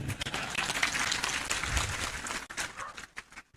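A crowd at an Indonesian independence-day religious lecture claps hesitantly, with scattered, uneven applause that thins out and trails off into near silence.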